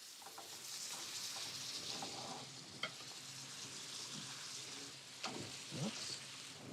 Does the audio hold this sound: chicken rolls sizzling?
yes